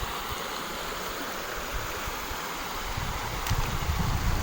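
Steady rushing of clear, fresh water flowing through the old Lengkung Pitu aqueduct in Magelang, a continuous broadband wash that swells slightly louder near the end, with no voices.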